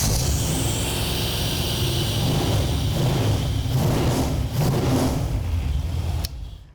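A turbocharged car engine fires up and revs in a garage, heavy low rumble rising and surging through several throttle swells before cutting off abruptly at the end.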